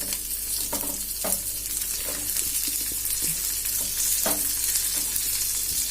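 Shallots, garlic and dried chillies sauté over low heat in a pan for banana flower chutney, a constant close sizzle with occasional soft scraping stirs, with no talk.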